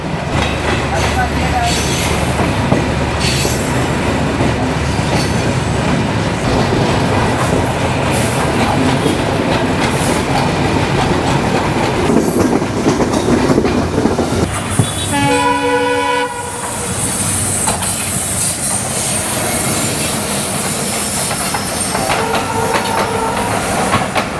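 Chilahati Express train rolling past the third terminal of Hazrat Shahjalal International Airport, with a loud, steady rumble and wheel clatter throughout and a long horn blast about two-thirds of the way through.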